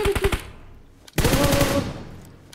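Rapid automatic gunfire in PUBG Mobile: a short burst of quick shots, a brief pause, then a second longer, louder sustained burst, close and dominant with no talk.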